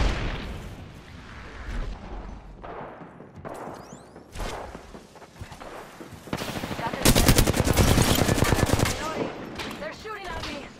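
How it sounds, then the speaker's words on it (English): Video game gunfire in a ranked match: rapid bursts of automatic fire from several weapons, building to a dense, loud volley near the end, with a player talking in between. "They're shooting at me."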